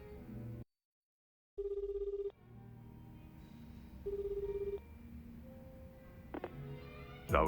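A phone rings during a call in Like a Dragon: Infinite Wealth: two short, clear electronic ring bursts separated by a pause, over a quiet tonal background.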